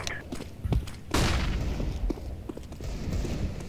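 Rifle fire in a first-person shooter game crackles in bursts, with a sharp, louder blast near the middle over continuous game noise.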